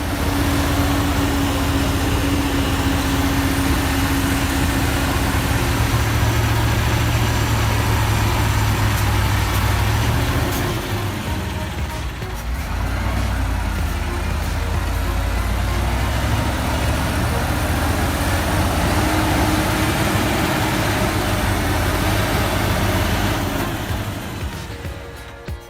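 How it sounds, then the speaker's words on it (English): A tractor engine runs steadily and loudly while the machine is stuck in mud, a continuous rattling drone with a dip in the middle before it picks up again. "The engine rattles nonstop."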